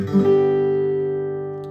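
A single guitar chord with the fifth string muted, strummed once and left to ring out, fading slowly, clear and close with no bass drone.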